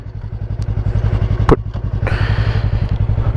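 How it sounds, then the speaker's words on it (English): A motorcycle engine idles steadily just after being started, a close, rhythmic low thumping throughout with a brief clunk midway, likely from shifting into first gear. "Now that the bike is started, put it back into first."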